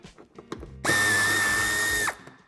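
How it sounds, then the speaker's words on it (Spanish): A power drill removes Torx 25 screws holding the bumper in the right wheel arch of a 2018-2020 Volkswagen Golf VII Sportsvan, one loud steady whirring burst of about a second between small clicks and handling noises. "quitaremos los tres tornillos que sujetan el paragolpes"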